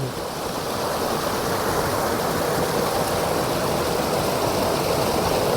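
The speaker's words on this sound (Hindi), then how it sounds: "आमर मिनी वाटरफॉल" A small waterfall flows with a constant close hiss and rush of falling water, steady and unbroken throughout.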